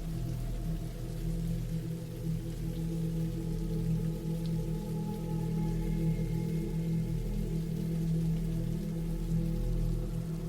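Steady rain falls on a rural cabin in the woods on a late autumn night, a dense continuous hiss with soft scattered drops and a low rumbling bed, alone with no voices.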